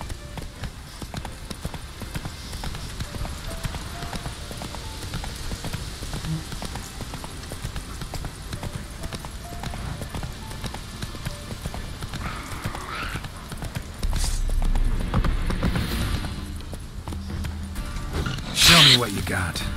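Horse hooves gallop at a rapid, steady clip-clop in The Witcher 3, continuous throughout with a louder burst of movement near the end and a brief voice in the middle.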